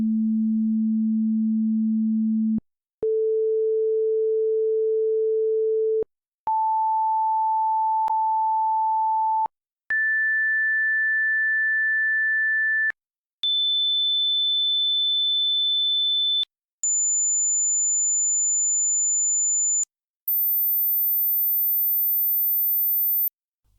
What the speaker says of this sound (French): les derniers là sont très aigus, et je dois dire la vérité, ils ne sont pas très agréables à écouter, tellement ils sont aigus